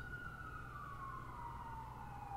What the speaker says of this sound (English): I gotta wait for the sirens.